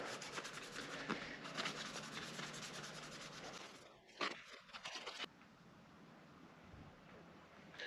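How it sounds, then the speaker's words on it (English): Clean rag rubbed firmly over a dirty old switch from a 40 series Landcruiser, close and quiet, with steady scrubbing strokes that stop partway through, followed by a few faint handling noises. "Just with a clean rag, give it a really good wipe off again."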